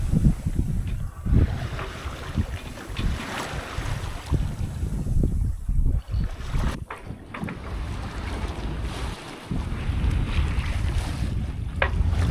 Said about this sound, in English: The wind actually has come up more than was forecast